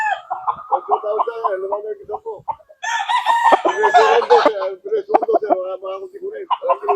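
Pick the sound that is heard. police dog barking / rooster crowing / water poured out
rooster crowing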